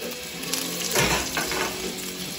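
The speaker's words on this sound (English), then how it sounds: "So we're going to flip the shrimp and get it nice and golden on both sides." Shrimp sizzles steadily in a hot pan after being flipped to turn golden, the loud, dense frying continuous and close throughout.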